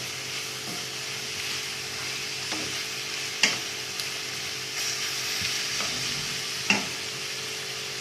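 Peppers frying in a pan on the way to a minced-meat dish, a steady close sizzle and hiss running the whole time, with a few sharp clinks of stirring now and then.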